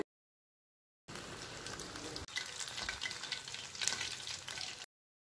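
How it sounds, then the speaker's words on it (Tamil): Crackling sizzle of chicken drumsticks frying in hot oil, steady and close, with a short break partway through and silence before and after. "எண்ணெய் சூடானது ஒவ்வொன்றா எண்ணெயில் போட்டுருங்க"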